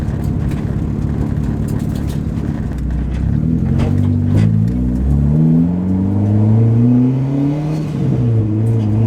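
A DA9 car engine revs up and down after a clutch fork repair, heard loud and close with rising and falling tones and steady idle rumble underneath, no voices.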